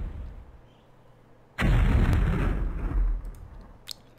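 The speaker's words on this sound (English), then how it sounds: "Let's do the Gatling gun." A Gatling gun fires in the MechQuest mech game: a dense, roaring burst of rapid shots begins abruptly after a quiet stretch and holds loud for about two seconds before cutting off, leaving a few faint clicks.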